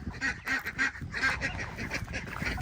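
Ducks on a homestead quack loudly and close by in a busy run of overlapping, repeated calls with a honking edge, no voices alongside.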